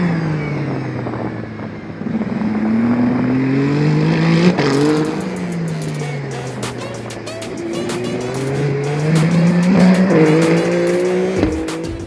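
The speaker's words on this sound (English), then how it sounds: "today I was testing the Toyota Hypercar" A Toyota Hypercar, the Le Mans-winning race car, running at a Bahrain rookie test: loud engine note climbing and dropping through gear changes, close by, with tire squeal and sharp crackles.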